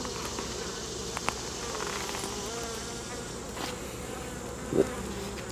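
Honey bees buzz steadily at an open hive during an inspection, a dense, close, continuous drone with a few faint knocks and one brief louder bump.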